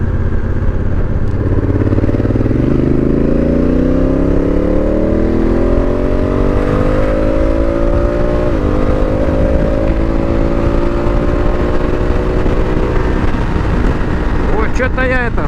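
A car engine revs up under heavy throttle while driving over uneven road, rising steadily in pitch over several seconds and then holding a loud, even drone, with a clatter near the end.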